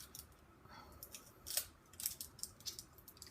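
Scissors snip through plastic packaging around a pressed eyeshadow, several close, sharp cuts in an irregular rhythm, fairly quiet, no voices.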